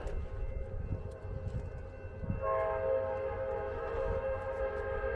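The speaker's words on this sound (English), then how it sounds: "we got a train coming by" At night in old Pinole/Hercules, a train rolls past with a low rumble that swells midway into loud, sustained horn-like tones holding steady to the end. No one speaks.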